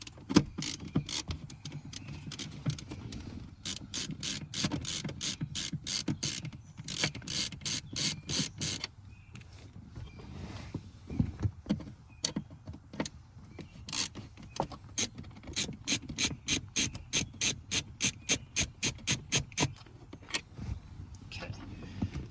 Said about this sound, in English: there's going to be two Phillips head screws that hold this back side in. So we'll have to remove those first.